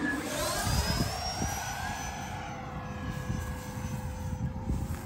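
Freewing F-35 70mm electric ducted-fan RC jet in flight, a steady whooshing turbine whine with a rising then falling pitch as it passes, heard continuously at moderate distance with no talk.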